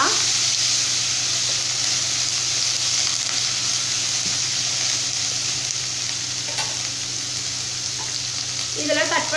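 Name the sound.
sautéing tomatoes with spices in oil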